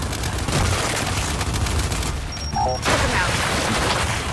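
Gears 5 campaign combat with a frag grenade blast and continuous gunfire, a dense loud wash of shots and booms with a brief lull in the middle, with voices under it.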